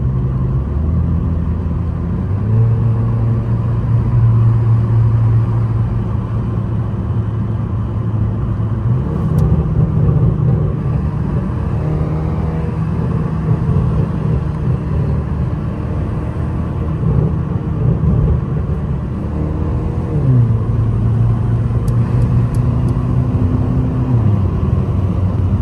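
A Mercedes-AMG C63 at a car meet runs loud and close, its deep exhaust droning steadily for nearly half a minute with repeated revs rising and falling, without clearly separate pops or bangs.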